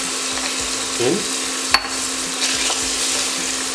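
Chopped onion and scotch bonnet pepper sizzle steadily in a hot pan for a Jamaican bully beef breakfast, with one brief utensil clack midway while a person talks over the frying.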